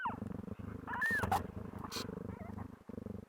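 A mother cat giving birth to a litter of newborn kittens purrs in close, rhythmic pulses, with faint high squeaks and brief rustling bursts mixed in.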